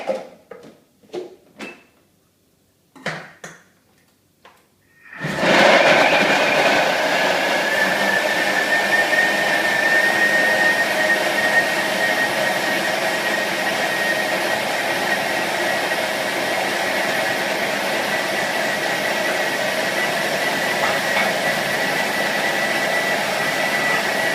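After a few quiet knocks and clicks, a blender roars to life blending raw Thai pumpkin soup, a loud, steady motor whir with a high whine that runs unbroken for nearly twenty seconds.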